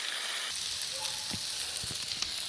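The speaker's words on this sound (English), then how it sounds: "Basically, we're just going to let them fry up." Potatoes frying on a Blackstone griddle, an even crackling sizzle that fills the whole stretch, with a couple of faint spatula scrapes underneath, close and steady.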